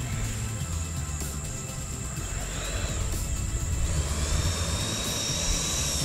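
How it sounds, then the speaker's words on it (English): A radio-controlled F-14 model jet taxiing back after landing, its turbine giving a continuous whine with a rising and falling pitch, loud and steady throughout with no talk over it. "let's go ahead and taxi her back"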